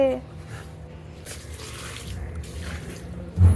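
Tap water runs steadily into a sink or basin while feet are washed, a continuous close splashing hiss with a brief louder burst at the end, and a voice speaks faintly at times.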